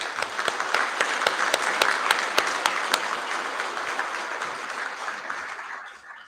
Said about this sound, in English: Let's give this group a round of applause.